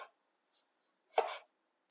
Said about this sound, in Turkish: Şu kalınlıkta patateslerimi dilimliyorum.